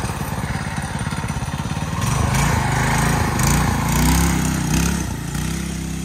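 A scratch-built off-road scooter's small engine runs close by, a steady buzzing drone that swells louder through the middle as the throttle opens, then settles back to a rough idle-like chug.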